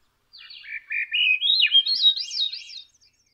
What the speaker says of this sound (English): And Swainson's thrush is very much favored too.